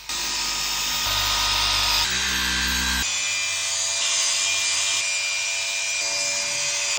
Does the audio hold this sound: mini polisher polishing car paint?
yes